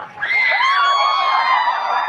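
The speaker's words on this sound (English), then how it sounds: "I am so upset that there was applause and happiness associated with the announcement" Crowd cheering, whooping and screaming as Stephen Colbert is welcomed on stage, a loud sustained burst of shrill voices rising quickly and holding.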